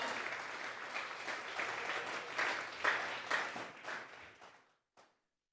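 A church congregation at a Sunday service applauds together, a moderately loud clatter of many hands with a few sharper claps near the end before fading out to silence.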